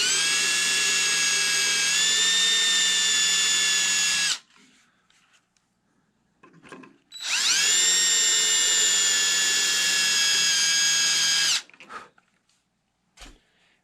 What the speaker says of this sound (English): So then we're just going to go ahead and drill.